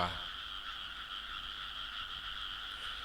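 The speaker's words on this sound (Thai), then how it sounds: "เสียงกบเขียดก็ ร้องตามธรรมชาติครับ" Dense chorus of frogs croaking continuously at night among trees, a steady shrill trill with no pauses, fairly faint and even.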